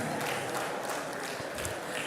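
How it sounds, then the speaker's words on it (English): Audience at a business school executive programme graduation in Lagos applauds, a dense, steady wash of many hands clapping from a distance at moderate loudness. "A round of applause for him as he comes."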